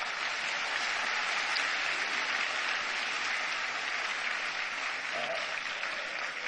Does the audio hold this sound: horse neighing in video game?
no